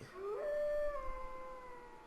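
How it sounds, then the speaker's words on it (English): A single drawn-out wolf-like howl from the Tales of Legendia video game rises and then holds a long wavering tone, fairly close and clear, with no talking over it. "That howl, what was that?"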